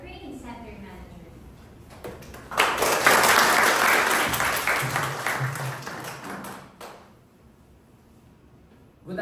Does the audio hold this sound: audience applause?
yes